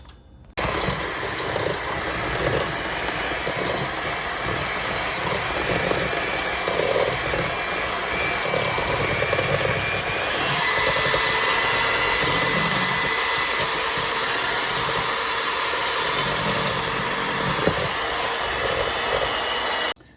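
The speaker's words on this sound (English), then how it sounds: "I'm going to use my hand mixer here" A hand mixer whirs steadily for about twenty seconds, creaming ingredients for an orange Jello no-bake cheesecake, a loud continuous motor drone with a faint scraping texture from the bowl.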